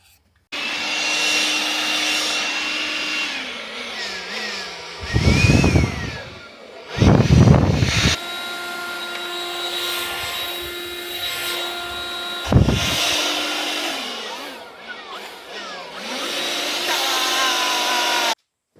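Battery leaf blowers whine steadily at close range, with a few loud, rough bursts of air blasting across gravel.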